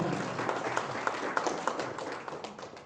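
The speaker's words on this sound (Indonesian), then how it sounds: "ini kita perlu tepuk tangan dulu" Moderate applause from a seminar audience, a soft continuous patter of many hands with a few sharper claps standing out.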